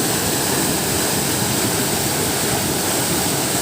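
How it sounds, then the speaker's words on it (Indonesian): Kedung Merak waterfall at Kedung Pedut in Kulon Progo roars in a constant broadband rush of falling water, loud and close, with no voices over it. "Ya ini namanya Kedung Merak lur, salah satu air terjun di Kedung Pedut"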